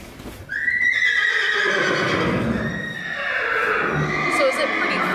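Several horses of mixed kinds, including ponies and draft horses, whinny loudly inside a full barn, one long neigh rising over a busy chorus of others with some hoof shuffling.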